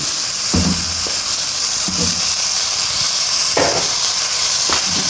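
Meat for marag drops into a hot frying pan and sizzles loudly, a close, continuous hiss and crackle with a few soft thuds as pieces land.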